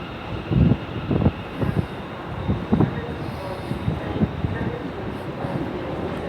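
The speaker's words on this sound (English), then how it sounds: "coming in now is a terminating service from Lanark" A ScotRail class 385 electric unit pulls into Glasgow Central on a terminating service from Lanark, 385003 leading with another 385 at the rear, giving a steady station rumble with clanks and thuds of wheels over points.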